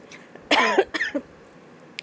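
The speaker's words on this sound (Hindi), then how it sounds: "मेरा खांसी भी देख सकते हैं" A single harsh cough bursts out close by, followed by a shorter second cough, then quiet.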